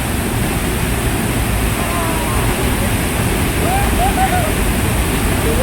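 Steady, loud rush of the Channat waterfall in the Konkan fills every moment, a dense broadband roar with faint chirps above it and no clear speech.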